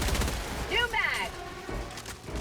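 Gatling sentry turret in Helldivers 2 firing a rapid burst of gunfire under game effects and a bit of voice, the rattling bursts fairly close and moderate in level.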